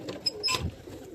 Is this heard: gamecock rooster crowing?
no